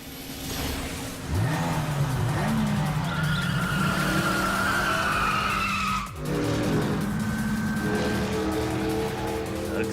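Race cars in the Mafia Grand Prix racing game skid with loud, sustained tire squeal and roaring engines, the pitch sliding up and down as they corner, continuous from near through most of the stretch with a brief dip midway.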